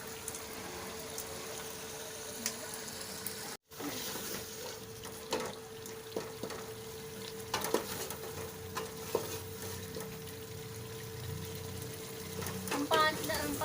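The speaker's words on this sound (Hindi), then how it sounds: "हम पाँच मिनट तक इसको भून लेंगे ताकि घी की स्मेल ना आए।" Meat frying in hot ghee sizzles and crackles steadily throughout, with occasional stirring clatter and a faint voice in the background.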